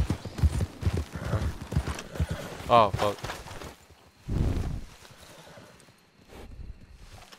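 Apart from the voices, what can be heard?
horse hooves and whinny in the video game Red Dead Redemption 2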